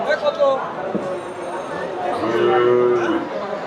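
Cattle moo amid a busy crowd, with people chattering and calling in the background of an outdoor cattle market for Qurbani at Daulatpur.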